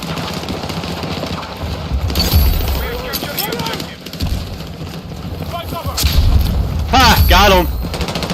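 A grenade explodes in the video game Battlefield 6, a heavy boom amid gunfire and clatter, with a player talking excitedly over the game sounds.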